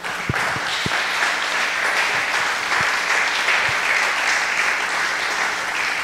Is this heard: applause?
yes